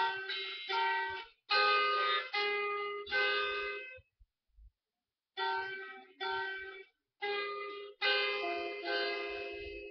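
A guitar plays bursts of ringing picked and strummed chords. It is close and clear, with a brief silent gap midway and no talking.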